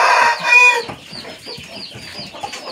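A chicken clucks in a quick rhythmic series of close, moderately loud calls, opening with a brief louder squawk before settling into repeated short clucks.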